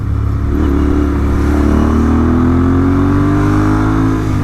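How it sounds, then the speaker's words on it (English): A loud Royal Enfield Interceptor 650 motorcycle engine with an S&S camshaft revs and climbs steadily in pitch, a close, continuous roar with no voices. "This is a proper hooligan motorcycle."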